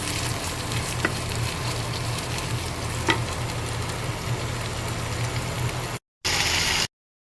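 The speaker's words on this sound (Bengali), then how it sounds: "পেঁয়াজের সাথে আদা রসুন বাটাটাকেও ভেজে নেব" Ginger-garlic paste frying with onions in a hot pan, a steady, dense sizzle running close and loud, with a couple of soft utensil taps, briefly cutting out before resuming.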